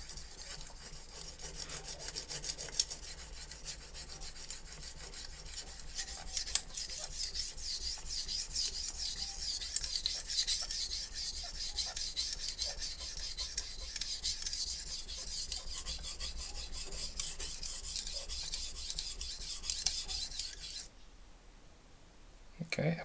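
Soft-steel utility knife sharpened on a Shapton Glass whetstone, producing a continuous fast gritty scraping of rapid strokes up close, with some talking over it, stopping abruptly near the end.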